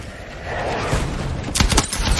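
Airstrike explosions in the video game Battlefield 6 build into loud, sharp bursts near the end, following a rumbling, noisy stretch of in-game sound.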